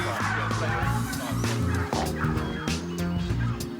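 Several bronze turkeys gobble in bursts, close and loud, over a busy, noisy background of other farmyard sounds.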